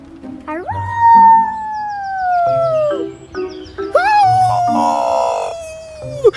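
Human voices imitate coyotes, letting out two long, rising-then-falling howls one after another, loud and close, with a pause between them.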